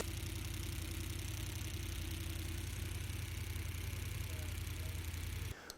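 A vintage Hemi engine bound for a 1929 Ford Model A hot rod idles in a garage with its valve covers off, a steady low mechanical drone with a faint ticking texture that runs unbroken and cuts off just before the end.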